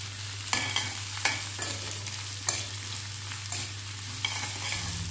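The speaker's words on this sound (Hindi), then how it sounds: "अब मैं इसमें सारी सब्ज़ियाँ एक साथ ही डाल दूँगी और इसे हाई फ्लेम में सॉटे करूँगी" Mixed vegetables sautéing on a high flame for a crunchy oats pasta dish, with a steady broadband sizzle and a handful of sharp scraping stirs from a spatula in the pan, close up and with no talking.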